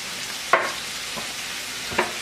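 Onions, peppers and garlic with salt and pepper cook in a pan, a soft steady sizzle broken by two distinct scraping strokes of a spoon against the pan, heard close and without voices.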